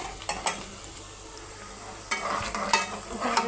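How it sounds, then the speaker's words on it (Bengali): Sliced onions fry slowly in a pan for a katla fish and bottle gourd curry, giving a steady low sizzle broken by a few sharp scraping stirs near the start and end; no one speaks. "আমি পেঁয়াজ সালার করতেছি আস্তে আস্তে"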